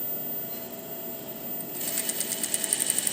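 A sewing machine edge stitches the folded hem of a dress skirt, starting after a quiet moment and running as a rapid, even, close mechanical chatter of stitches to the end.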